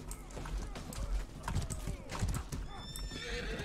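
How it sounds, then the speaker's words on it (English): Horse hooves clip-clop steadily across ground in the medieval combat game Mordhau, and neighs and whinnies come through with battle noise all around. The hoofbeats are quick and continuous, heard close and fairly loud. "I'm gonna attempt to get on the horse"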